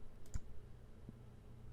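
A single faint computer mouse click on an OK button in music notation software, a short, soft tick heard alone in a quiet room.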